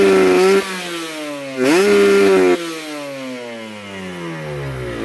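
Motorcycle engine with a PWK 30 carburetor, reamed to 32, revved hard to the limit in two loud bursts, then falling back to a lower idle-like drone, close and alone.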